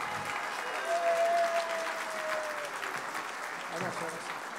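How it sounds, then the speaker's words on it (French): Audience applause fills a hall as the Irish team is welcomed on stage at the WAC 2019 opening ceremony, steady and dense throughout, with an announcer's voice and a brief tonal whistle riding over the clapping. "Allez, on peut les applaudir, on peut les accueillir bien fort."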